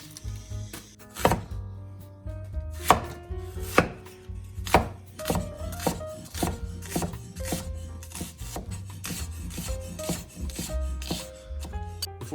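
An onion being chopped with a knife on a cutting board as a vegan pizza topping: close, crisp chops in an irregular but steady rhythm, with no talking.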